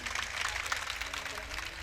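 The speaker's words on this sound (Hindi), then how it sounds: "तालियां बजा दीजिए।" Audience at a mushaira poetry gathering in Badaun clapping steadily in a dense, continuous patter, with speech heard faintly under it.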